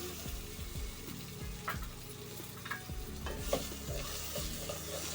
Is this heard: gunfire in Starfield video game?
no